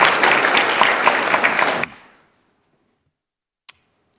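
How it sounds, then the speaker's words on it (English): Round of applause from the audience in a state Senate gallery during a floor session, loud dense clapping for about two seconds that stops abruptly, followed by silence and one faint isolated click. "please give all the folks in the audience up there that are charter school people another big round of applause"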